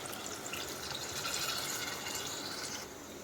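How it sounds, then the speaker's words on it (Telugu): Tamarind juice is poured into a pan of taro (chamadumpa) curry, giving a steady close-up splashing hiss for about three seconds that softens slightly near the end, with no talking. "ఆ చింతపండు రసాన్ని వేసేసాం కదండి"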